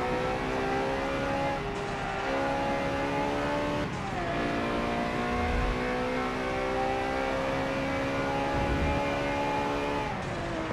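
Bugatti EB110 engine in Forza Motorsport 7 revving and accelerating through gear changes, a loud steady drone with rising pitch broken by brief shifts, heard alone at close range.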